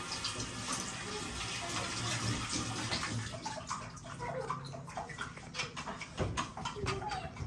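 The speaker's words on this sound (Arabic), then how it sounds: "اوعى عم اغسل ايدك." Tap water running while hands are washed, with onions and salted fish being prepared in a kitchen: a steady splashing flow with irregular splatters, close, with voices talking over it at times.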